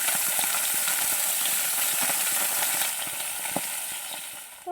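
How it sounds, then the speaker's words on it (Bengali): Fish frying in a pan gives a steady, close hiss of oil with faint crackles. The sizzle fades a little near the end. "এদিকে তো মাছ ভাজা হচ্ছে"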